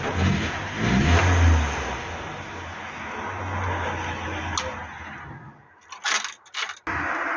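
A Hillman Superminx classic car engine hums and rises in pitch while driving, a steady close drone that fades toward the end, giving way to a few light clinks and knocks.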